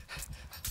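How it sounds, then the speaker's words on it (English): Dog panting, a few quick, breathy huffs in rhythm, close and fairly quiet, lasting under a second. "No. You bad doggy dog."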